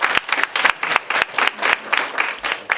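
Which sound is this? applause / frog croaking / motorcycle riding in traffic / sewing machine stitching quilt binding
applause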